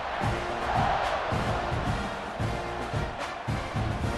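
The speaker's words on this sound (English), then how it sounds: "You think this crowd's going to get loud when their defense comes on the field?" A stadium crowd in an American college football video game roars and cheers around a kickoff, a dense, continuous wash of distant voices with rhythmic swells, while a commentator talks over it.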